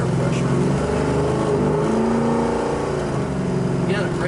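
A 1972 Plymouth Road Runner's V8 rumbles steadily while driving, the engine note rising and falling slightly under load, loud and close throughout.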